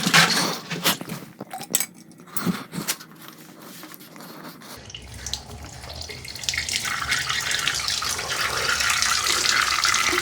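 Water pours and splashes steadily from a hot water tank being partly drained by hand during a DIY replacement, with clinks early on before a continuous rushing flow builds and holds through the end.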